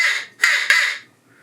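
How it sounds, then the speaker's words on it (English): A cheap Walmart crow locator call is blown in three short, loud, raspy caws in quick succession, close to the listener, then fades into near silence. "So I keep a crow call."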